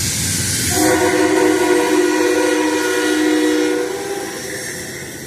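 A train rumbles past with its horn sounding a long, loud, steady blast before fading slightly as it moves on.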